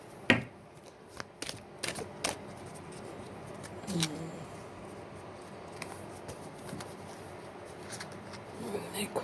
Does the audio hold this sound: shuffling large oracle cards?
yes